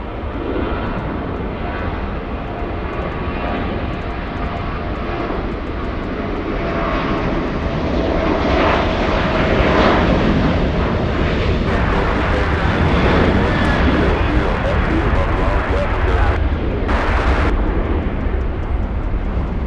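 Delta Airlines Boeing 757 jet at LAX, a loud sustained engine roar that builds and holds for about twenty seconds with a broad rushing rumble.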